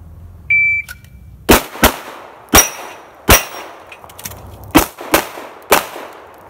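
Shooting practice at steel targets: a string of eight sharp, loud gunshots in irregular pairs and singles, each with a ringing clang, after a brief electronic beep.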